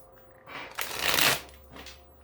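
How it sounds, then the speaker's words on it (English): Star Spinner tarot cards riffle-shuffled once, a soft ruffling burst that swells to a crisp peak of flicking card edges before a brief softer riffle, close up and alone. "let's take a quick look to see how well they shuffle rifle style."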